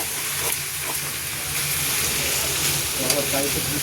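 Chicken with garlic and onion frying in a pan for a chicken and spinach curry, a steady broadband hiss of sizzling oil with soft clinks, close and continuous at moderate volume.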